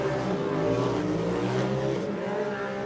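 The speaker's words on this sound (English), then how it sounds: "And you can hear those turbos spooling too as they come by." Turbocharged side-by-side race cars roar past on a dirt track near a start-finish jump, a dense, loud and continuous engine drone with layered revving harmonics and turbo whine sustained throughout.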